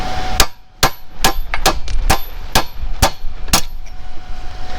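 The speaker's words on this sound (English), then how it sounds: "drive the chisel through, and that should cause the ring gear to crack and then loosen off" A hammer drives a chisel into the ring gear of a Ford 8N tractor to crack it: about nine loud, close, metallic blows land at a steady, fairly quick rhythm, each ringing briefly.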